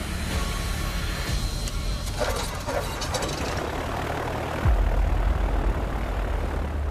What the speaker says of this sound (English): While it's running for now, without a new battery, this plane will have to be hand-started every time.